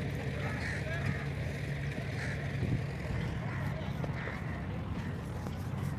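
A ship on the river at Dhubri gives off a steady low engine drone with water and wind noise, continuous and fairly close, while people talk over it.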